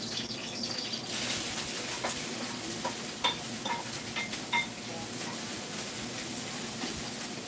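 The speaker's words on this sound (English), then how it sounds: "You saute this" Onion, scallion and cilantro sautéing in a pan give a soft, steady sizzle, with occasional light clinks and stirring scrapes over a quiet background.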